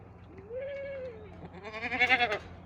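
Goats bleating near a farm gate: two close, wavering bleats, the second higher and more tremulous, with quiet outdoor background.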